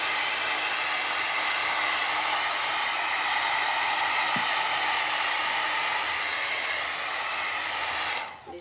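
A hair dryer blows a small dog named Coco dry after her bath, a steady close whooshing hum running unbroken for several seconds before cutting off abruptly at the end, no one talking.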